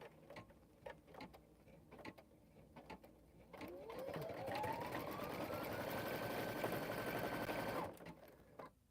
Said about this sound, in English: all we need to do is just stitch this one little section and then we can take it off